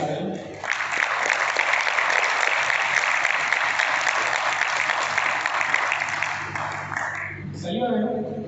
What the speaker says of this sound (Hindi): जोरदार ताली सारे